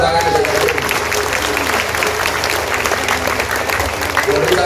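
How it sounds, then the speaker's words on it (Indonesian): An audience applauding a guest named Catherine at an Indonesian talk event, dense continuous clapping from a room of people with some voices underneath. "Tepuk tangan untuk Catherine."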